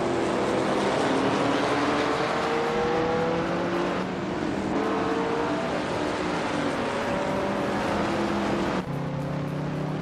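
Vintage race cars such as Alfa Romeos and Porsches in a racing video game. Several engines drone and rise together as they accelerate through the gears, with one car roaring past up close and a sudden shift in tone near the end.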